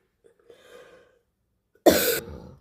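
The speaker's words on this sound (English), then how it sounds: "Sorry, I had a very bad cough." A single harsh, loud cough bursts out close by after a soft breath and faint throat noise, from someone with a bad cold in a home kitchen while cooking a chicken stew.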